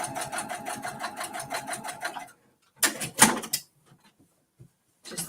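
A sewing machine runs long basting stitches along the binding of a mini quilt, giving a steady rapid mechanical chatter for about two seconds, then short stop-and-start bursts separated by quiet gaps.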